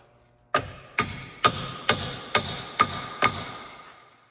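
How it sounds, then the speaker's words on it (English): Seven sharp metallic hammer strikes on a chisel, driven into the steering knuckle of a 2011 Hyundai Santa Fe to spread it, evenly spaced about half a second apart, each ringing briefly before the next blow. "By hammering that chisel in there, we're spreading the knuckle a little bit"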